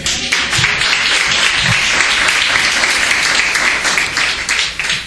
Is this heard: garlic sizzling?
no